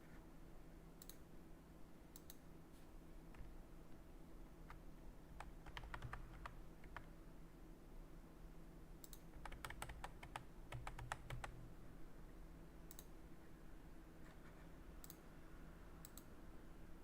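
Fingers type and click on a computer keyboard in quiet, soft scattered keystrokes arriving in short bursts over a low steady hum, with no talking.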